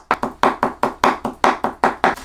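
A knife chops raw shrimp into a paste on a cutting board, with about ten sharp, evenly spaced whacks in a fast steady rhythm, loud and close with no talking.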